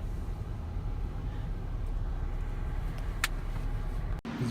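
A 2017 Chrysler 300C rental car drives at night, giving a steady low engine and road rumble heard from inside the cabin. A brief click and a sharp dropout come near the end.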